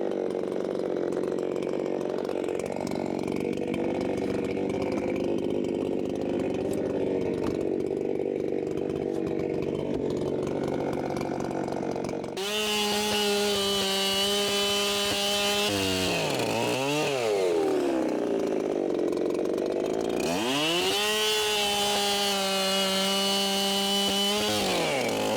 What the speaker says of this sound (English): This thing rips in hardwood, Bodie.